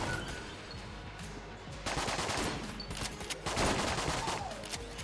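Rapid bursts of gunfire from the sentry turret bullet in modded Enter the Gungeon, a dense crackling fusillade that swells louder in two waves over steady game background.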